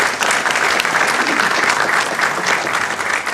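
Dense audience applause after a film festival Q&A screening in downtown Los Angeles, loud steady clapping filling the whole moment with no pause.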